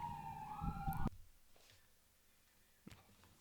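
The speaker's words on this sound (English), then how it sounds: "I can hear the sirens in the background." A wailing siren sounds for about a second, then cuts off, leaving faint background noise and a soft thump.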